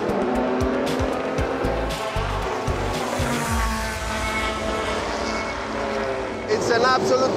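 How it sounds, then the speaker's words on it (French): A 1982 Porsche 956C race car runs on the track at the Spa-Classic historic racing meeting. Its engine roars loud and close without a break, with shifting tones and a brief tire squeal near the end. "Autre bijou en piste, la Porsche 956C de 1982"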